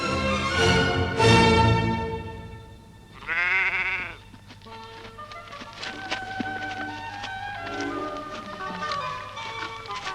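A pet sheep in the Swiss mountains bleats loudly several times close by, with a few quieter calls afterwards and faint clopping and rustling around it, and no talking.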